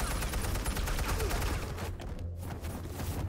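Dense, continuous gunfire from a Batman: The Telltale Series video game scene, a steady loud barrage of rapid shots with a low rumbling undertone and no talking.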